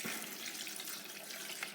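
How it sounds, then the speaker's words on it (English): Water runs steadily from a kitchen tap into a blender jug, a continuous close hiss and splash for under two seconds with no talk. "Let's get some water in it."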